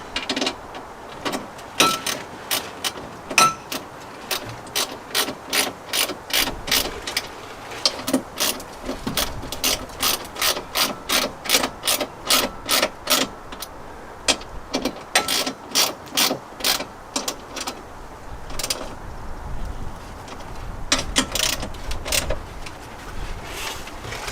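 A hand ratchet tightens bracket bolts on a Jeep JL storage rack, giving long runs of quick, loud, evenly spaced clicks in bursts with short pauses between strokes, close by and with no voices.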